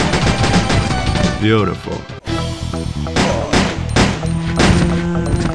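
Automatic weapon fire in Resident Evil Code Veronica, loud rapid bursts of gunshots mixed with game music and effects, with a voice speaking briefly over the action.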